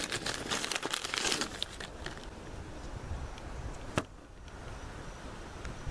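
A small Loot Crate item is unwrapped from paper and plastic: close crinkling and rustling, busiest in the first two seconds, then thinner crackles and one sharp snap near the four-second mark before quieter handling.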